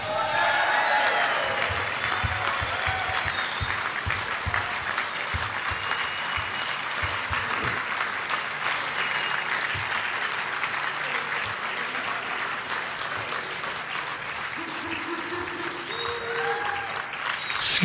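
Sustained applause fills the room at an awards dinner, a loud, dense crowd clapping without a break for nearly eighteen seconds, with faint scattered voices and a few whistles mixed in.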